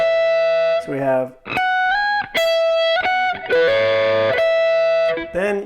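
Electric guitar with a distorted, effects-laden tone plays a lick of picked double stops on the top two strings with hammer-ons, a run of short sustained notes and bends, close and loud.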